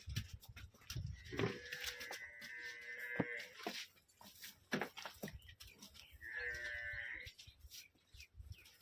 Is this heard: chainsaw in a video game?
no